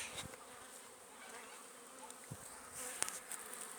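Honeybees flying around their hive on a cleansing flight after days of rain, the hive entrance slightly open; a faint, steady buzzing from a distance with no talk.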